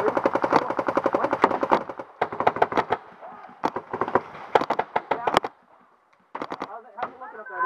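Gunfire toward a rock wall during a rainy outdoor skirmish game, rapid bursts of sharp cracks in clusters, loud and close, with short pauses and voices between bursts.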